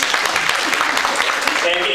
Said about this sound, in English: can you hear people applauding?